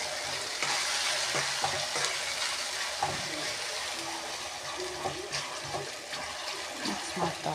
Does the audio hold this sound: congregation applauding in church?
no